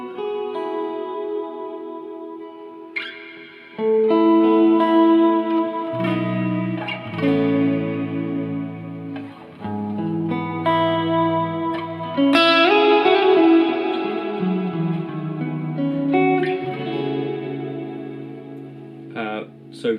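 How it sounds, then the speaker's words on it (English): Electric guitar through a Boss RV6 reverb pedal on its modulate setting: sustained chords and notes bloom into a shimmering, wavering reverb tail that swells and decays, played alone. "This is modulate."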